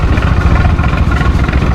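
A motorcycle engine idles steadily and close by while the bike is pulled over and parked at a roadside stop on a long ride, a continuous low rumble with no voices.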